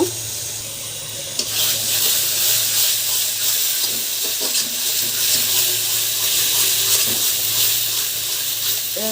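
Chepa dried fish washed under a running tap, a steady close rush of water that keeps going with light handling sounds and no talking.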